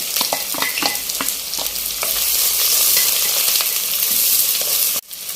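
Onion, garlic, green chili and coconut pieces sautéing in hot oil after mustard seeds, a loud, close, continuous sizzle with crisp stirring clicks early on and a brief drop near the end.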